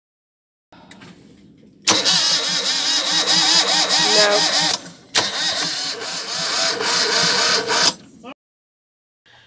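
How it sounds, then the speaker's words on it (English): A Volvo Penta sailboat engine's starter motor whirs and cranks loudly in two long bursts, the engine never catching, with a short pause between attempts. "when we started the engine off the starter motor, it just wouldn't go"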